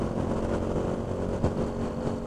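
Suzuki Bandit 1250 four-cylinder motorcycle engine idling or revving nearby, a steady dense hum throughout with a brief bump in the middle.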